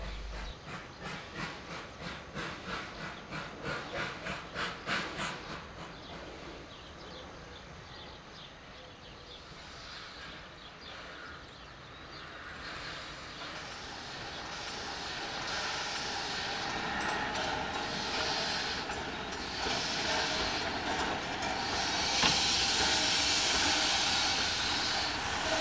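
A 1911 Breda class 640 steam locomotive chuffs in rapid rhythmic bursts, then gives way to loud hissing steam and rumbling, growing louder toward the end.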